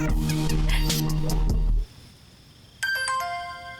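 Phone ringtone in a Hindi-dubbed South Indian film scene: a loud musical ring plays first, cuts out, then a brighter electronic chiming ring resumes near the end, with no one speaking.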